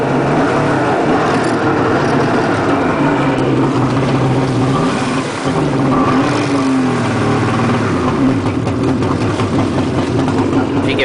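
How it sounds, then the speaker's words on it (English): A jet ski engine runs loud and close, its pitch rising and falling repeatedly as the throttle is blipped, with a brief dip midway. "you can gradually give it some gas just for a little bit of revving"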